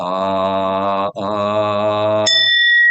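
A Zen temple bell is struck once near the end, its bright ringing tone hanging and fading after a long, steady droning tone that stops with a brief break partway through.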